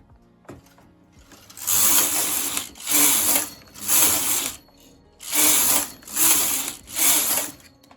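A domestic knitting machine carriage is pushed back and forth, knitting rows of metallic viscose yarn for a tuck stitch. There are six loud, evenly spaced rasping sweeps, each about a second long, with short pauses between them.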